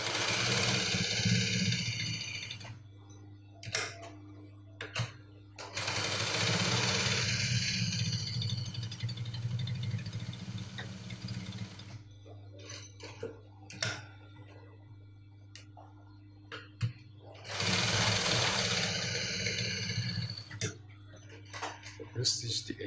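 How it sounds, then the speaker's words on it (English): Sewing machine stitching the edge of a cargo pocket, bursts of fast whirring and rattling stitching that start and stop, separated by quieter stretches with ticks and handling noises, near and fairly loud. "just going to stitch this straight."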